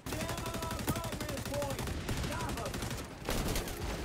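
Rapid gunfire from the video game XDefiant rattles in dense bursts for about four seconds, with repeated shots at a moderate level and a brief gap before a final burst.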